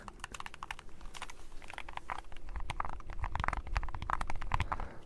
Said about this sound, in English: These keycaps are fun.